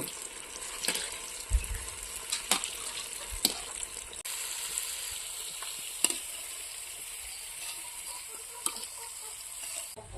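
Coconut vada deep-frying in hot oil, a soft continuous sizzle close by with sharp clicks and taps of a utensil scattered through, and no one talking.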